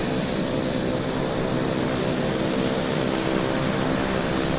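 The simulated engine of a turbine Duke aircraft in a flight simulator game hums as it spools up, a steady, loud and close drone with a layered tonal whine and no talk over it.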